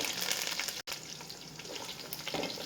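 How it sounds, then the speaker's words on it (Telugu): Curry leaves dropped into hot oil with onions in a home kitchen, a steady close sizzle and crackle throughout with one brief gap, no talking. "ఇలా ఉల్లిపాయలు వేసుకున్నాక మనం కరివేపాకు కరివేపాకు వేసుకుంటే మంచి స్మెల్తో మంచి టేస్ట్ ఇస్తుందండి ఇప్పుడు కరివేపాకు వేసుకుంటాం"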